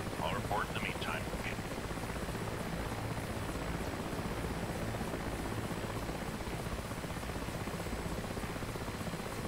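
A Mi-8 helicopter sits on the ground after touchdown in the DCS flight simulator, its engines and rotor giving a steady, even whine and hum at moderate level, continuous with no talk.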